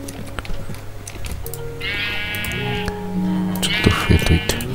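Sheep bleating in Minecraft, several wavering bleats repeating over a farm-animal game background, with occasional clopping sounds underneath.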